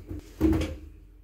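Student accommodation bed at Brighton University creaking as someone gets out of it, one short, close groan of the frame lasting under a second, with no talk.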